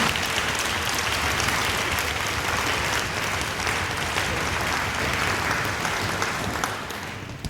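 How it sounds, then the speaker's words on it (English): An audience applauds an honor orchestra at a school concert, a dense, steady roar of many hands clapping for the whole stretch before fading slightly at the end; no voices over it. "Let's give them a round of applause."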